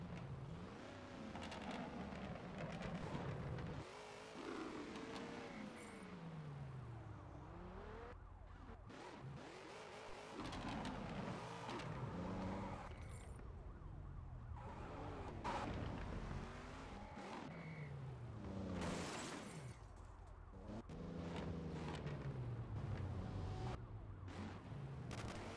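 Cars racing at speed in the Car Parking Multiplayer video game, with engines repeatedly revving and swooping, tires squealing and skidding, and several loud passes overlapping throughout with no talking.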